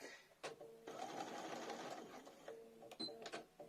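Sewing machine stitching prefolded bias binding in reverse, a short steady mechanical whir running for about a second and a half, close and clear, bracketed by light clicks and handling sounds.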